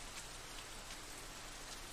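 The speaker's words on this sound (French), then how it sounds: "Ça revient, il commence à pleuvoir. La pluie revient, du coup." Steady, even rainfall hisses throughout a scene of the Bleach anime, a dense wash of drops with no voices.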